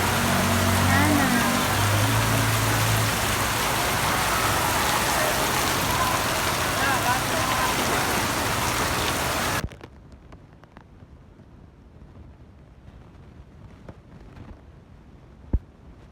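Heavy, dense rain pours down steadily during a super typhoon, with stranded vehicles nearby, then cuts off abruptly to quiet background with faint scattered sounds.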